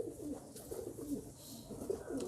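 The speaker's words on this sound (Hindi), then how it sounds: "ये मेरा तीर पर का कबूतर है" A tumbler pigeon with feathered feet coos softly in repeated low, burbling phrases close by, with light background noise and no speech.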